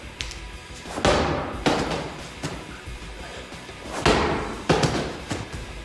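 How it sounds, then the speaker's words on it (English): A 20-pound medicine ball is slammed repeatedly during a home workout, giving a series of loud, sharp thuds at irregular intervals, some in quick pairs, with no talking. "We're going to slam the ball with our whole body, really extending and slamming all the way through the workout."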